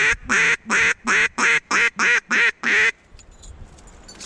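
Duck quacks during a duck hunt with thousands of birds around after a cold front: seven loud, evenly spaced quacks close by, then faint background noise.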